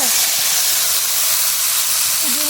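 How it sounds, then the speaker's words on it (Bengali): Soaked potato and kohlrabi hit hot oil and spices in a village kitchen, giving a loud, steady, unbroken sizzling hiss that fills the whole short moment, with no voices. "তাহলে ধনে পাতাটা দিয়ে দেবো আর ভিজে রাখা আলু ওলকপি"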